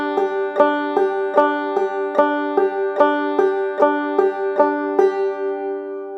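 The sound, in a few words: clawhammer double thumbing eighth-note pattern in double C tuning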